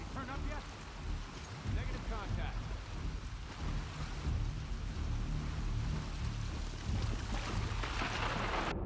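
Storm ambience in The Last of Us Part II, with rain, wind and rumbling thunder rolling under a busy, continuous mix of game sounds, fairly loud throughout.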